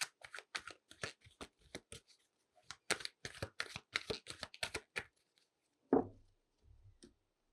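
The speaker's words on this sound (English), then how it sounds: "So let's pull a card for the outcome for this" Tarot cards are shuffled by hand in quick crisp riffles and flicks, a close dry run of snaps followed by a pause, a single soft thump, and a faint rustle as a card is pulled.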